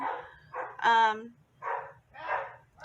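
Dogs bark and yip at home in a few short, mid-distance bursts, one more tonal like a whine or howl, with a faint low hum underneath.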